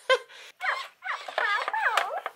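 A confused dog whimpering and whining in high, wavering cries, close and fairly loud, in short bursts over about two seconds, with bits of speech mixed in.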